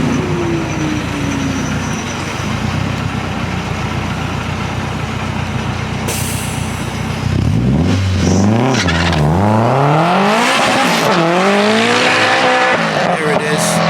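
A 500 hp K-Series hatchback race car at a drag strip idles loudly before roaring off, its engine revving and climbing through rapid rising gear sweeps, loud and close throughout.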